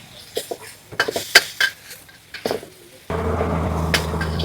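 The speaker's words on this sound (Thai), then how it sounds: "รวนหมูให้สุก" Minced pork stir-fried in a pan: a series of sharp metal spatula clinks and scrapes against the pan, then a steady loud sizzle once the meat hits the heat, close up.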